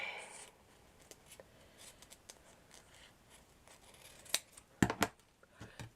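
Small scissors snip thread after hand stitching a large handmade flower patch, giving several quiet, soft clicks and snips that grow a little sharper toward the end, with no talk.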